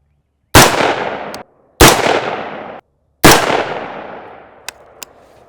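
Three loud rifle shots fired from a rested position at a 50-yard range, evenly spaced about a second apart, each a sharp crack with a long decaying echo, followed by faint distant pops.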